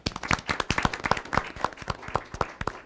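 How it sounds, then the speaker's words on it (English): A small audience at a board of education meeting claps, a scattered round of applause of individual hand claps that is fairly close and lasts a few seconds. "We can give them a round of applause."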